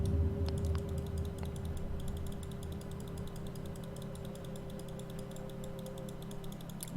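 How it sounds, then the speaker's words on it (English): Rapid mouse clicks and key taps during play of a point-and-click adventure game, a steady run of small dry ticks over a constant low hum, close and moderately quiet. "You can probably hear me clicking."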